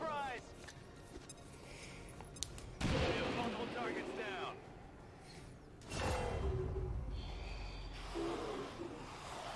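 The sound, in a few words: grenade and gunfire in XCOM 2 video game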